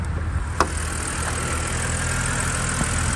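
A car engine idles steadily just after a light cold start, a smooth low hum up close with a couple of faint clicks and no voices.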